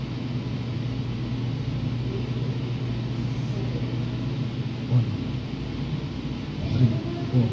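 A stolen motorbike's engine runs with a low, steady rumbling idle, continuous throughout, heard from a CCTV vantage in Quezon City with faint background noise and occasional brief bumps.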